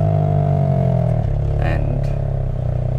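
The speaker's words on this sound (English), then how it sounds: "we are hoping to get some decent exhaust notes" Close, loud exhaust note of a Hyundai i20 N hatchback, a deep rumbling drone that shifts down in pitch as the revs settle, with a faint clatter.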